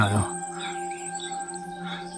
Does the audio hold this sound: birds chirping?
yes